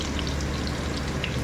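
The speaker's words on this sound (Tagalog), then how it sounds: "Magpaprito po tayo ng sibuyas para sa ating chicken biryani ngayon." Onions frying in hot chicken oil for chicken biryani, a steady, dense sizzle and crackle filling the whole stretch at close range with no pauses and no voices.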